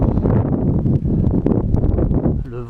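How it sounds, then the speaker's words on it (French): Cold wind gusts outdoors by a pumptrack, a loud continuous buffeting rush against the microphone that sits close and fills the whole moment. "Le vent, j'ai l'impression qu'il est de plus en plus froid"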